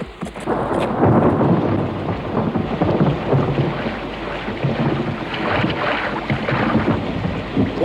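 Heavy rain with rolling thunder and gusting wind in the open countryside of the Scottish Highlands near a swollen river, a loud continuous roar that stays dense and steady throughout.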